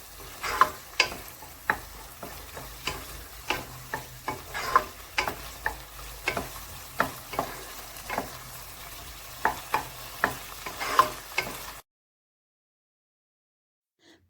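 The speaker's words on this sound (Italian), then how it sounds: "Mescoliamo ancora per un minuto." A spoon stirs lasagna filling in a pan with a steady, regular scraping rhythm over a soft sizzle, close and moderately loud, then stops abruptly into silence.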